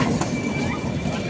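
Steady rumbling rattle of a passenger train running from Kolkata toward Benaras near Shrirampur, a continuous close interior drone with faint wheel noise and no clear talk.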